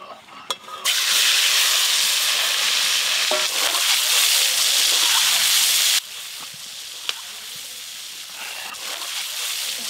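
Boiled eggs fry in hot oil with a loud, bright sizzle that surges when they go in, then eases to a softer steady hiss with occasional stirring clinks.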